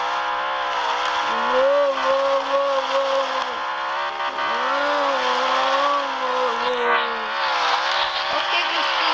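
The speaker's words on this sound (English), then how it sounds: "Did you like the reverse drift?" A car in a driving simulator game drifts in reverse, its engine droning steadily while tires squeal in long wavering whines, loud and continuous, with a person briefly exclaiming over it.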